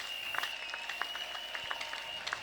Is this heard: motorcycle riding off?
no